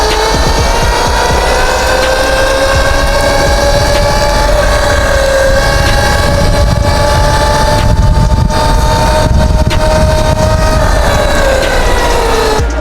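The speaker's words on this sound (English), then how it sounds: "I'm gonna run it right now, mode 3, max mode" A Freego Nova 4 electric dirt bike accelerates in max mode on a rough road, its motor whine rising and holding in a steady loud pitch under heavy wind roar.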